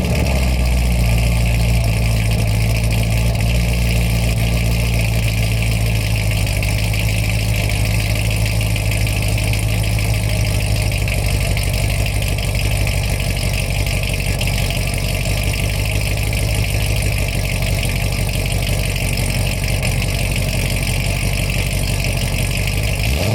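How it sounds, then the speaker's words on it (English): A 2008 C6 Corvette fitted with headers, a tune and an MPP exhaust idles after a cold start, a steady deep rumble with a low throb that runs loud and unbroken throughout, with no talking. "But right now I just want to do a cold start."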